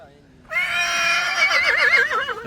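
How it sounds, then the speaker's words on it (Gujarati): A young Kathiyawadi filly gives one loud, close whinny lasting about two seconds, rising sharply and ending in a quavering, wavering tail, with faint background murmur beforehand. "વછેરી તમારી"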